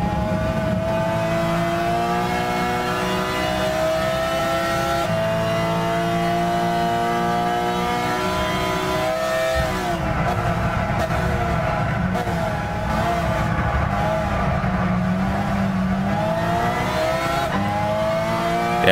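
A race car engine in Gran Turismo 6 revs hard and steadily for the whole stretch, pitch climbing and dropping through gear changes, loud and continuous with no talking.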